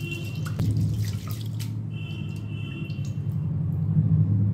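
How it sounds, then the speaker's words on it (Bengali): Water runs and drips in a pot as rice is rinsed for chicken pulao, a steady trickle with splashes and a low hum, with no one speaking. "3 বার জল পাল্টে পাল্টে চাল ধুয়ে নেব"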